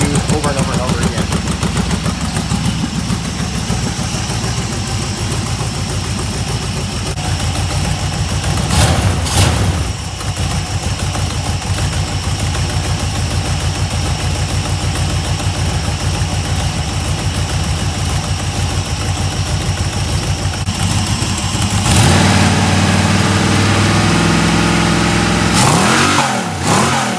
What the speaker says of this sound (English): that exhaust leak is louder than the mufflers